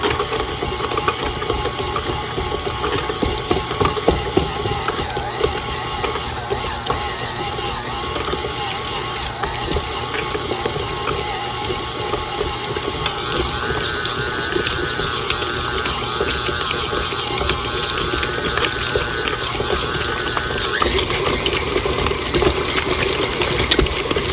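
A stand mixer with the paddle attachment churns keto cheesecake batter, a steady whirring motor with rhythmic rattling gear chatter that keeps up without pause, close and fairly loud.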